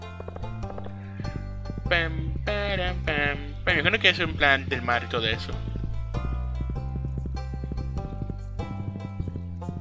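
Horse hooves clip-clopping in the Stardew Valley farming game, a rhythmic trotting patter with light game music, largely under someone talking.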